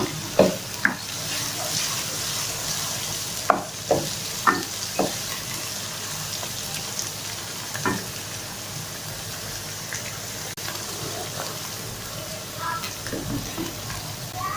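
Onions browning in a pan for aloo palak, a steady sizzle of frying with scattered sharp crackles and pops, plus occasional stirring clicks, close and moderately loud, with no talking.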